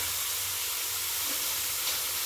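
Spice paste (arappu) tipped into a hot pan for a spicy tamarind sardine gravy, giving a steady, even broadband sizzle and hiss that runs unbroken throughout, moderately loud with no talking.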